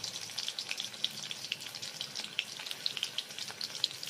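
Plenty of garlic sizzling in hot oil in a kadhai on a gas stove: a faint, continuous frying crackle scattered with small sharp pops, heard alone without voices.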